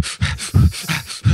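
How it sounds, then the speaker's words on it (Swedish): Heavy, rhythmic panting breaths, loud and close, about four quick rasping in-and-out pulls in just over a second with no talk over them. "Varför andas du så tungt?"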